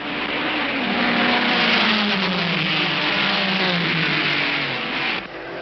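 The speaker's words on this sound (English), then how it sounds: "round La Source, it's Brooks who leads the two Ferraris" 1958 Formula One race cars, a Vanwall leading two Ferraris, roar around La Source at Spa-Francorchamps, with a loud engine note that drops in pitch as they pass, heard on an old narrow-band recording without talk.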